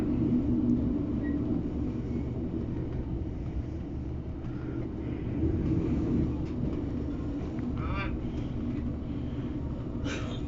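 Steady low rumble of an East Midlands Railway class 156 diesel unit heard from onboard while running between Barnetby and Lincoln, continuous and even, with faint rattles and brief squeals near the end.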